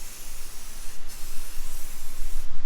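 A coat of spray sprays onto a car headlight during a headlight restoration. A continuous, loud, close hiss runs for about three seconds with slight pulsing and nothing else heard.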